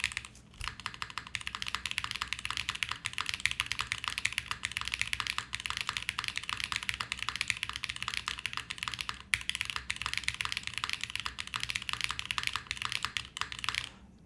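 Typing on a Quantum60 mechanical keyboard with a carbon fiber plate: a steady, dense run of close, crisp keystroke clacks with a few louder thocks, continuous and alone without talk.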